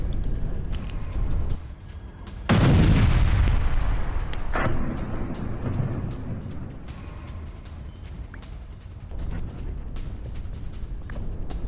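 Gunfire and explosions from an attack on Tel Aviv: a loud, sudden boom with a rumbling, decaying roar, followed by further distant blasts and crackling bursts over ongoing background noise.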